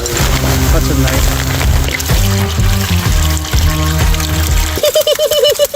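Hot water poured and splashing loudly over sand in a gold pan, a steady pouring wash with a short trickle at the end, no talk over it.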